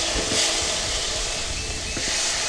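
Ground tomato hits browned, frying masala for a Kerala milk chicken curry, setting off a steady, close, loud sizzling hiss that carries on without a break.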